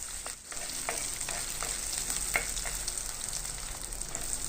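Five chopped garlic cloves and a small piece of ginger sauté in hot oil in a pan for Tamil kuska, giving a steady close sizzle and crackle with faint stirring scrapes throughout.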